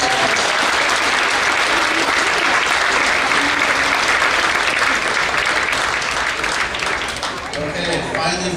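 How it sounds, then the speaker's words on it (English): Sustained loud applause from a crowd at a school board meeting fills the whole stretch without a break and thins slightly near the end. "a big round of applause for last year's victory"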